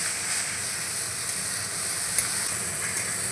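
Spice paste frying with Kashmiri chili powder for a festive-style potol chingri of pointed gourd and prawns, a soft, steady sizzle at low volume with a single faint tick.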